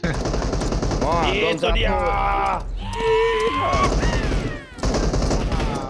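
PUBG Mobile gunfire: bursts of automatic shots rattle steadily under lively chatter from several players, with a vehicle engine humming throughout.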